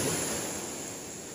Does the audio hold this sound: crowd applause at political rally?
no